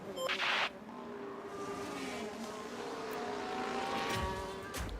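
An F1 car passes in F1 Manager 24 at the Shanghai circuit, a high-revving engine whine sweeping in and building, with a commentator's voice over the steady race ambience.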